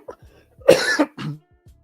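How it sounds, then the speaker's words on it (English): A live sports-talk show host gives one sharp, close cough into his microphone, followed by a shorter second cough, in an otherwise quiet room. "I thought I hit mute and I coughed"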